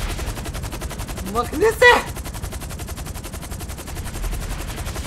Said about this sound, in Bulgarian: Стига се ме стрелял, бе!